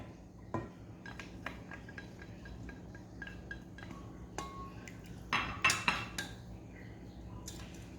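Melted butter is stirred into banana coffee cake batter in a bowl, with irregular clinks and scrapes of a utensil against the dish, busier in the middle stretch.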